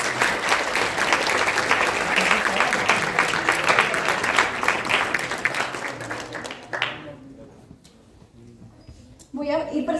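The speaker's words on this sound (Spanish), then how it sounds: "les pido un aplauso para ustedes" Audience applause at a talk on neurotransmitters in anxiety and depression, a dense clapping crowd that holds for about seven seconds, then thins and fades before a voice speaks.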